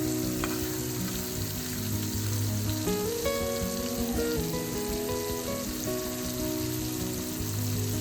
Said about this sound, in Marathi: मांदेली फ्राय होते.